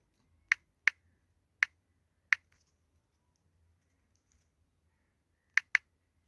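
Quiet keypresses enter a one-time passcode: four sharp isolated clicks at uneven intervals, a pause of several seconds, then two more quick taps, with a low hum underneath.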